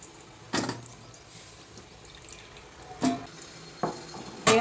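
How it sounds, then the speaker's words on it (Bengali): Water splashes and pours over cut raw mangoes being washed for pickle, in a few separate short bursts with quiet pauses between them. "এবার আমি জল দিয়ে ভালো করে আমগুলো ধুয়ে নেব"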